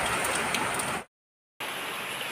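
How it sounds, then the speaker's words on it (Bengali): Storm rain from Cyclone Remal before dawn pours as a steady, close hiss of falling water that drops to total silence for half a second before resuming just as strongly. "বৃষ্টি, ঝড় বৃষ্টিতে"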